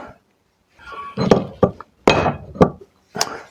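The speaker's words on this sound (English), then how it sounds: "What I'd like to do is to knock that nail out and see if that helps." Several sharp metallic blows, struck in small irregular groups with short pauses between, loud and close, as a hammer knocks a nail out.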